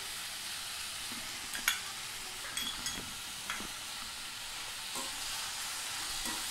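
Ivy gourd (kovakkai) with ginger and chili powder sautés in oil, a soft steady sizzle with occasional sharp clicks of stirring against the pan, fairly quiet and without speech.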